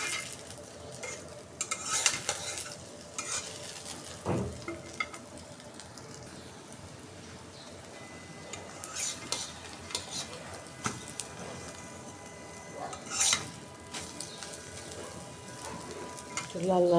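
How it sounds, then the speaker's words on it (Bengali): Eggs frying in a pan for breakfast, a soft continuous sizzle broken by scattered clinks and scrapes of a utensil against the pan, with faint background noise. "নাস্তার জন্য ডিম ভেজে নিতেছি।"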